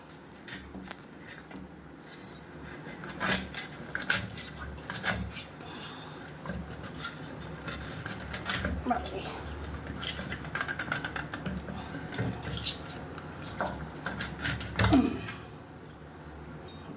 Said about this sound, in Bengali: এবার মাছের মাথাটা আগে আলাদা করি